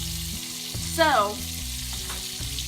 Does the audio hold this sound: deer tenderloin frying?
yes